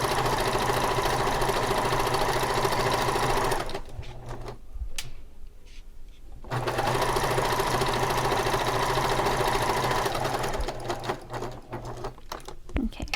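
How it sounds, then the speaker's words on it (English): A sewing machine runs long gathering stitches on a pillow sham with a steady, fast mechanical whir. It pauses for a couple of seconds midway, then resumes at the same even pace. "just get into a groove and just start sewing all these long gathering stitches"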